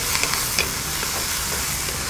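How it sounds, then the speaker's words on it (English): Onions and garlic sizzle in a wok, a loud, steady, close frying hiss with a few faint scrapes from stirring, and no talking. "Now just stir fry these for about half a minute until the onion just starts to color."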